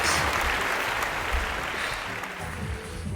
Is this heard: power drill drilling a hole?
no